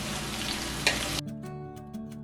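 Ginger and chopped tomato sizzle hard in a hot pan for fish curry, a dense broadband frying hiss with a brief stir scrape, then it abruptly drops to a quieter bubbling simmer with faint ticks.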